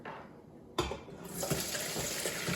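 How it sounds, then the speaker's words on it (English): Beef stock poured and strained into a large bowl, a soft splashing pour that begins abruptly after a quiet moment and then runs as a steady close liquid stream with faint clinks. "We're just going to strain everything into a large bowl."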